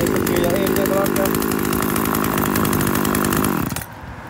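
A Japanese-made used chainsaw engine fitted with a muffler runs steadily and smoothly at close range for most of the clip, then cuts off near the end.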